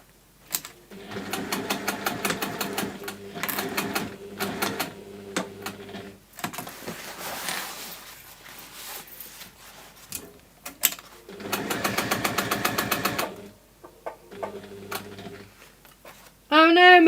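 A sewing machine stitching a waxed canvas bag runs in several loud, rapid bursts separated by pauses, with the bobbin running out partway through; a voice speaks between runs.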